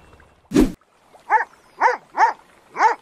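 Chop the dog in the video game GTA V gives one sharp bark followed by four evenly spaced, whining whimpers, close and clear with no talking.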